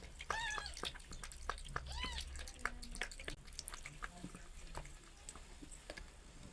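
High, thin mewing from four newborn kittens lying with their mother cat. The mews come in short repeated cries, and soft rustling and faint background sounds sit underneath.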